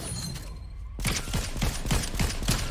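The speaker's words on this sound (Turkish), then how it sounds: "Aa arkamda sıkıyorlar" Rapid gunfire from behind a player in Fortnite, a burst of loud, evenly spaced shots following a brief quieter stretch.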